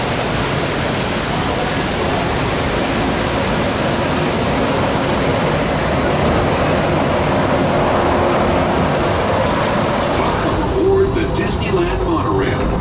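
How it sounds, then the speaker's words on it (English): Steady broadband rumble and whoosh of the Disneyland Monorail riding its track at sunset, loud and continuous inside the standard cabin, with a faint tonal whine and muffled voices underneath. "go for a little sunset ride on the Disneyland Monorail"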